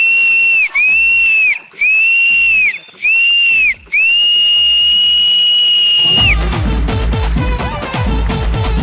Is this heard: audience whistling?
yes